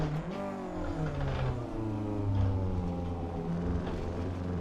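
A Honda Civic EJ6 with a B20 engine spins its wheels in first gear, the engine roaring loud and steady at high revs with a rising, strained tone and no talk over it.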